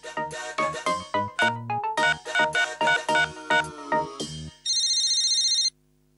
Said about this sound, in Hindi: देखो किसका फोन है।